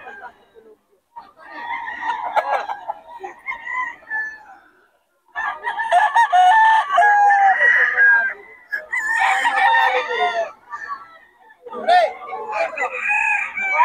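Several roosters crow close by, overlapping one another, with hens clucking in between and brief quiet gaps.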